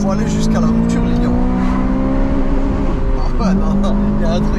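A Honda Civic Type R engine is held high against its rev limiter, a loud, steady, buzzing drone that briefly dips and bounces back before holding again.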